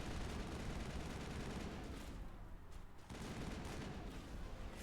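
Sustained rapid gunfire from the Mass Effect shooter game, a loud continuous burst of shots into the ground with a brief dip midway before the firing resumes.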